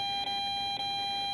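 An EMF meter held near a Bluetooth speaker emits a steady, high electronic alarm tone that stutters with two tiny dropouts and keeps sounding throughout.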